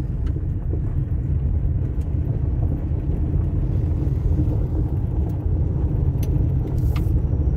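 A car cruising the backroads of Ohio, steady low engine and road rumble held throughout at close range, with no voices and no distinct events.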